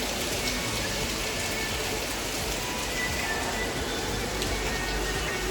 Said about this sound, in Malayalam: മഴയാണ് ഗൈസ്, പെട്ടുപോയി.